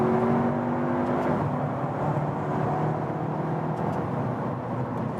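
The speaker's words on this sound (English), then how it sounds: "then we can check out the acceleration here from 100 to," Volkswagen Passat Alltrack with a 2-liter turbo engine of 272 horsepower accelerating from 100 to 140 km/h, a steady engine drone with a shift partway through under road and wind noise.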